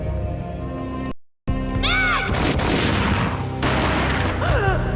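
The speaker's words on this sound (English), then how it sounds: "A gunshot boomed and she fell down in slow motion." Gunfire from the video game Max Payne bursts out in quick booming shots after a short silence, mixed with a rising swoosh of effects and a faint voice.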